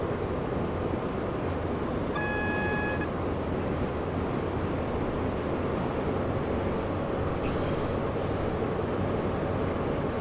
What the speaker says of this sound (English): The HST is a bit noisy